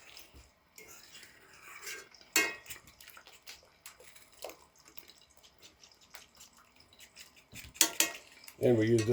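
Eggs being scrambled in a cast iron skillet, with metal utensil scrapes and clinks against the pan, a few sharper knocks and some sizzle, with brief talk in between.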